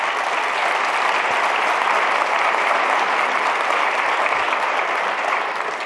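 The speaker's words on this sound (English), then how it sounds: "I really think that they deserve a round of applause" A conference audience breaks into applause, a thick, continuous patter of many hands clapping at full strength for several seconds with no voices over it.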